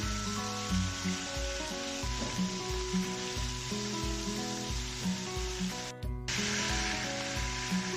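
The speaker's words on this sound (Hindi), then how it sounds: "चिकन को हम अच्छे से फ्राई करेंगे।" Chicken pieces fry in a pan with a steady, continuous sizzle, heard close and alone over a low background hum.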